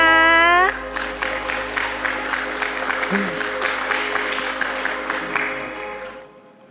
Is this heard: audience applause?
yes